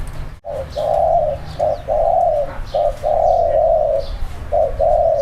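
Repeated soft, hooting spotted dove coos in phrases of a few notes each, close and steady, with a brief sharp knock near the start.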